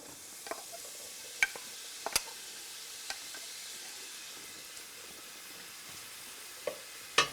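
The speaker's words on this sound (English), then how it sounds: "Let it fry a little bit." Onions frying gently in oil give a faint, steady low sizzle, broken by a few sharp clicks and taps from stirring, with no voices.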